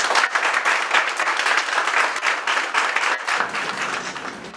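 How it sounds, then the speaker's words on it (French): Dense, sustained applause and clapping from a crowd at a political meeting in the 1st arrondissement of Libreville, Gabon, loud and continuous, thinning slightly near the end. "Monsieur Paul Maringo, sous vos acclamations, s'il vous plaît."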